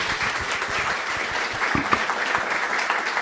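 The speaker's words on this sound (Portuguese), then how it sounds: "pedir uma salva de palmas para a Thaís" An audience applauds for a speaker named Thaís at an event on the 2018 economic outlook, a steady wash of many hands clapping together for the full stretch at even loudness, with no voices over it.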